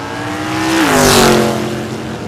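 A drag racing car makes its run at an ANRA season finals eliminations event, one loud engine roar rising and shifting pitch as it passes close by, then holding strong as it pulls away.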